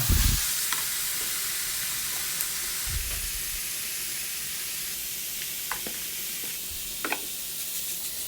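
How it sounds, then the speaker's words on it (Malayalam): A spiced chicken filling with turmeric and garam masala hisses steadily as it fries in a pan. Occasional knocks and scrapes of stirring sound close by, with no voices. "അപ്പോൾ അതൊക്കെ ഒന്ന് നല്ല ഇളക്കി വെന്തിക്കണേ"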